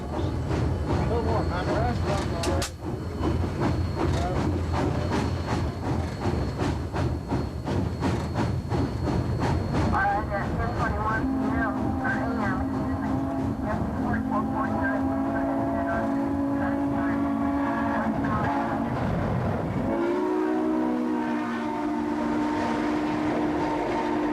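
A steam train rumbles steadily along with rhythmic clanking and rolling noise, a drawn-out horn-like whistle tone rising midway, the whole run loud and continuous.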